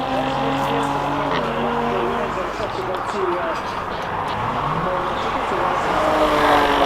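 Jaguar F-Type S racing up a hillclimb course, its engine droning with rising and falling pitch as it passes at moderate distance, steady throughout and overlaid by commentary talk.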